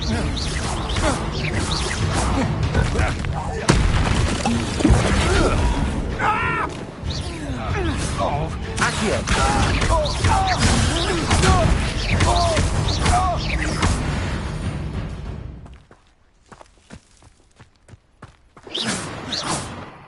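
Spell combat in Hogwarts Legacy, with dense, loud bursts of magical impacts, thuds and whooshes layered over speech for about fifteen seconds. A short quiet gap follows, then a brief final burst.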